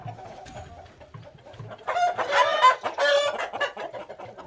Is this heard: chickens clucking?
yes